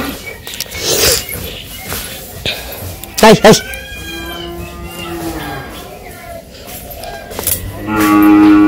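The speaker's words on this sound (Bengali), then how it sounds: "গরু নিয়ে যাওয়া হচ্ছে" A cow gives a loud, drawn-out moo close by in a village setting, amid people talking and other farmyard sounds.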